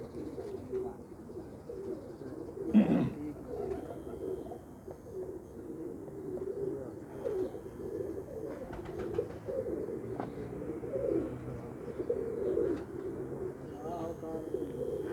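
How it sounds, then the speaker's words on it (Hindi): Soft, low pigeon coos murmur steadily in the background, with a louder wing flutter or clap near the start and faint chirps scattered throughout. "चोई साहब के कबूतरों की एक ख़ास बात है"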